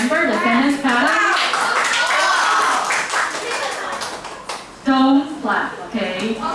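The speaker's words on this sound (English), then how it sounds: "Don't clap, okay? It's not real, it's too fake, okay?" Students in a classroom clap their hands in brief, scattered bursts, mixed with children's voices and a teacher talking over them.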